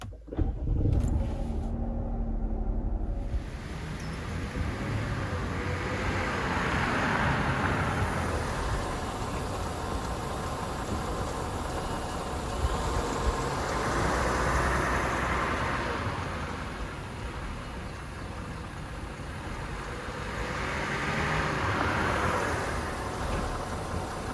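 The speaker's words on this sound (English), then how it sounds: "I'm going to start the engine and go for a test drive." A 2018 Chrysler Pacifica engine starts with a short rough burst, then settles into a steady running rumble that swells and fades as the minivan drives after a front brake pad and rotor replacement.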